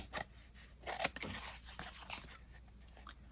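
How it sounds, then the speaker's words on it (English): Scissors trim two-ply paper from a snippet roll in a few quiet, close crisp snips and rustles, with no talking. "I think I'm going to trim it down anyways."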